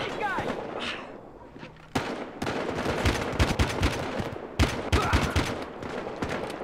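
Gunfire in Battlefield: Hardline, loud sharp bursts and single shots cracking out in uneven clusters, the firing picking up after a brief lull while voices talk amid the shooting.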